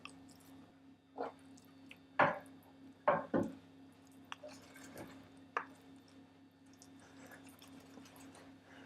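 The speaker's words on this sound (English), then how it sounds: "just simply chop up that into bite-sized pieces" Food being chopped into bite-sized pieces for a Spanish paella, a flavouring ingredient cut on a board in a quiet kitchen: a handful of irregular, moist knife thuds and squishy cuts, spaced apart, with a steady low hum underneath.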